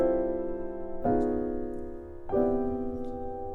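A piano intro: three sustained chords struck one after another, each ringing and slowly decaying, soft and alone with no talk.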